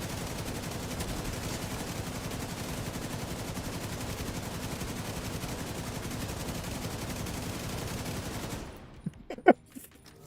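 Continuous rapid automatic gunfire rattles loudly in a video game for about eight seconds, then cuts out, leaving near silence broken by a couple of sharp clicks or knocks.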